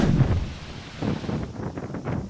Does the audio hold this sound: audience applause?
no